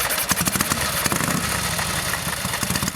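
The engine of a 96-year-old Brough Superior motorcycle runs close by, a loud, steady, rapid thumping idle with an even pulsing beat and no voices over it.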